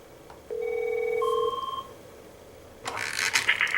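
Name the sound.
Avaya J129 desk phone ringing during a sample call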